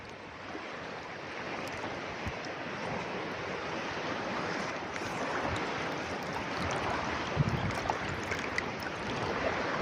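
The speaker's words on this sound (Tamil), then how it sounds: "இன்னைக்கு அலையும் நல்லா நம்ம மேல வந்து பொத்து பொத்துன்னு அடிச்சிட்டு இருந்ததுப்பா" Sea waves slap against a fishing boat out at sea, a continuous rushing wash of water with irregular splashing thumps and some wind, steady and fairly close.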